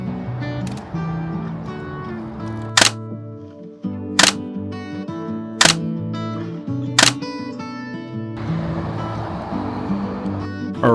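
A film camera's shutter fires four times at roughly even intervals as photos are taken of an A-frame motel by the roadside; the crisp, close clicks stand out over steady background music.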